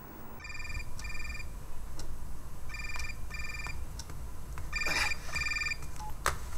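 A telephone number is dialed, with several bursts of quick tone beeps in clusters, fairly close and clear over a low background hum.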